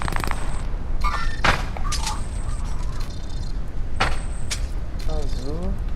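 Unsuppressed Snap rifle shots in a shooter video game, a few sharp bursts spaced across the clip amid game sounds and overlapping talk.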